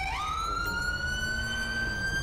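A police car siren stuck on in a GTA patrol game wails continuously at close range, a steady rising electronic tone with harmonics that holds loud throughout over low engine rumble, with no talking.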